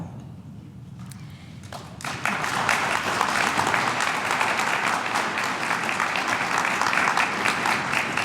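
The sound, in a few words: applause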